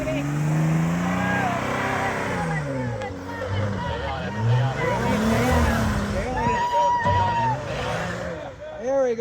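A Jeep engine revs hard and unevenly while climbing an off-road obstacle, rising and falling in pitch over several seconds at close range, with people talking and shouting over it.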